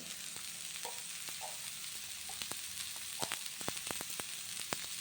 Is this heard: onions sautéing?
yes